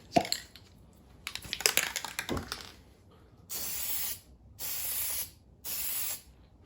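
A can spraying a second coat of Plasti Dip onto car emblems: three even hissing bursts, each about a second long, separated by short pauses and following some lighter handling clatter.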